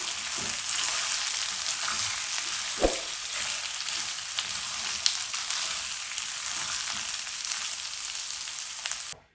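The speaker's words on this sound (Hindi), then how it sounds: "अब इनकी तकरीबन 3 मिनट भुनाई करते हैं" Peas roast in a hot oiled pan with a continuous bright sizzle and crackle, broken by one soft knock of a stirring spoon, before the sound cuts off abruptly.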